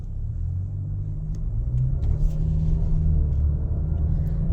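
A car drives along a road near a Scout Motors site in South Carolina, and a steady low engine rumble with road noise holds close and constant throughout, with no talk.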